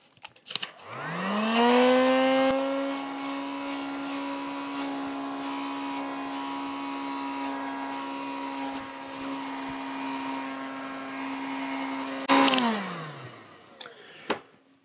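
A heat gun blows steadily over freshly glazed pottery, a loud, even whir that spins up, holds for about ten seconds, then winds down with a falling pitch, heard alone without talk.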